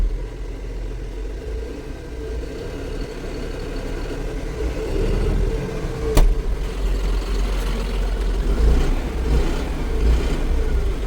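A John Deere 5405 CRDI tractor engine heard from inside its closed air-conditioned cabin gives a steady, muffled mid-pitched rumble. The tone swells slightly toward the end, a brief sharp click sounds midway, and no one speaks.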